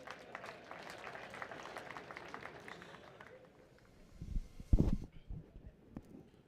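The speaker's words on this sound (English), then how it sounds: "Give yourself a round of applause." Audience at a Heroes Day veterans celebration in Namibia claps in a moderate, fairly distant burst that fades out midway, followed by a few louder bumps and handling noises.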